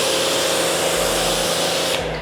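A loud, continuous hissing roar of a pressure washer rinsing foam off a car, steady and close, with no talking.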